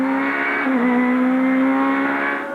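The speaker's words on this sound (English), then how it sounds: "Jeff Allam is driving the wheels off his Cavalier" A Vauxhall Cavalier touring car on slick tyres racing around a wet Pembrey circuit in the 1992 British Touring Car Championship, its engine holding a loud, steady high-revving note with a brief pitch dip, close and continuous.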